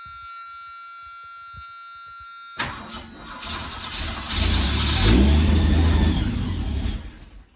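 A car engine cranks and catches after a steady electronic chime, then settles and revs louder and rougher, close by and alone.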